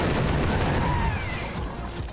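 Gunfire from a double-barrel shotgun in the Far Cry 3: Blood Dragon video game: a dense, loud burst of booming blasts filling the whole clip, fading slightly toward the end.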